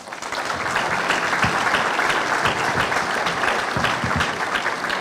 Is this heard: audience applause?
yes